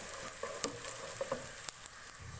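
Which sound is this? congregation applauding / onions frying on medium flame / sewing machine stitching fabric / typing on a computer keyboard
onions frying on medium flame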